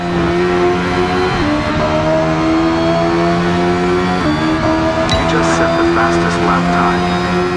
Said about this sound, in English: Here's the Brabham BT24 on the Jarama circuit, which is a car which raced on this track at the time.